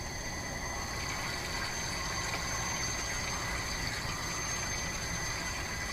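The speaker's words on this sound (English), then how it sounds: "So now if I simply press this button again, we should get hot water." Hot water streaming steadily from a Zodi portable propane shower while camping, a constant close hiss and rush with a faint hum underneath, no talking.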